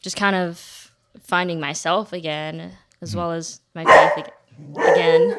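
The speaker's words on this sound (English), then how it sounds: "Sorry, that's our dog" A dog barks a couple of times near the end, close and fairly loud, overlapping a person speaking steadily in a quiet indoor room.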